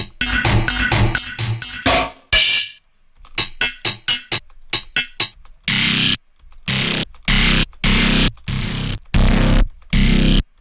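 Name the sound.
distortion effect on audio in Ableton Live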